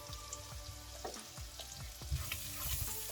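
Garlic and ginger fry in oil over a lowered flame for ackee and saltfish, a steady close sizzle with scraping stirs throughout and no talk.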